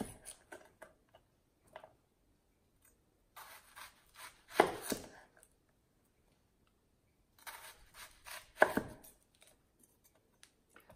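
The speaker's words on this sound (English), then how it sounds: "Now I'm going to take my onion and hold it on the one end, and I'm going to make quarter inch slices." A knife cuts an onion into quarter-inch slices on a cutting board, producing sparse, quiet taps and a few louder chops in separated clusters, with no talking.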